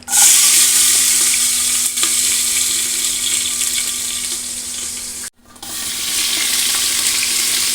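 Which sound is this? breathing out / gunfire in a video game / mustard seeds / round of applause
mustard seeds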